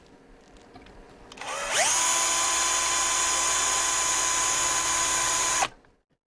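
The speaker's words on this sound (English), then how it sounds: "See if I can hold that and drill it." A power drill bores through a part during repair of a Hacker Herald RP30 radio, spinning up with a rising whine into a steady, loud, close drone for about four seconds, then stopping abruptly.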